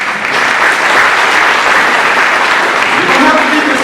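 An audience at a senior awards ceremony breaks into loud, sustained applause that fills the room evenly for several seconds.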